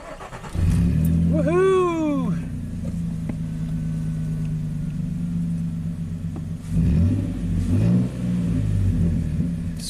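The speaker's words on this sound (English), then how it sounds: "See if we can start the engine." A car with a no-start fault turns over and starts with a loud roar, settles into a steady idle, then revs up again; a voice whoops excitedly over it.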